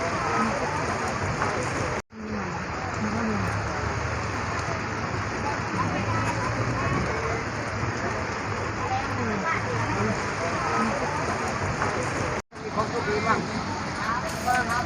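Heavy rain pouring on an open-air market, a dense steady hiss of downpour on surfaces with vendor chatter and voices mixed in beneath it, briefly cut out twice.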